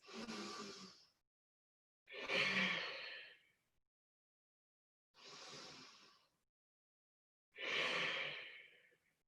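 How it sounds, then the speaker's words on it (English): Slow, deliberate ocean-style yoga breathing: four drawn-out, hissing breaths, alternating inhales and exhales, each about a second long and separated by silent gaps, close and fairly soft. "try to make this breath audible. Imagine waves in the ocean crashing against the rocks."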